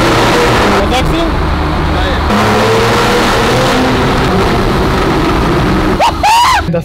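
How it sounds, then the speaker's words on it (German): A Porsche all-wheel-drive car accelerates hard with its tyres spinning: a loud, close engine roar and rushing noise that fills the clip, with some sharp squealing tones near the end. "am Anfang, wo du Gas gegeben hast, dass die Reifen, glaube ich, durchgedreht sind"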